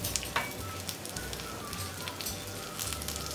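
Whole spices such as cumin, bay leaves, dried red chilies and cardamom frying in a spoonful of hot oil, giving a steady close crackling sizzle with brief pops and no speech.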